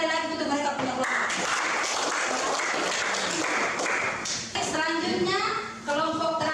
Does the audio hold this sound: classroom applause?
yes